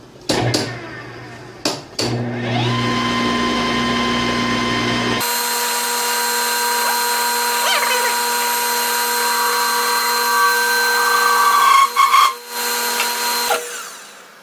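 A cutter plunges into an aluminum billet being machined into a fuel-tank gas cap: a motor spins up, then a loud, steady, high-pitched machining whine holds for several seconds before a few rough bumps near the end, with no talking.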